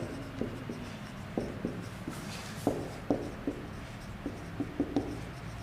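Equations being handwritten during a physics lesson on the work-energy theorem: a quiet, close series of short scratchy pen strokes with small taps, steady and intermittent, with no talking.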